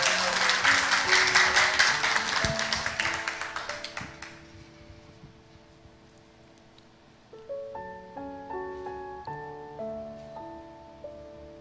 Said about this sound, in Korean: 여러분 박수로 청해 주시기 바랍니다.